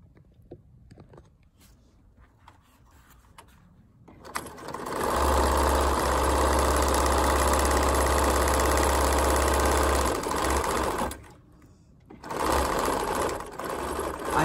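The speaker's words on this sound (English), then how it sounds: "a darning foot on the sewing machine so that I can stitch in any direction" A sewing machine with feed dogs down and a darning foot starts up for free-motion thread painting, running in a fast, steady mechanical whir, pauses briefly, then stitches again; quiet handling sounds come before it.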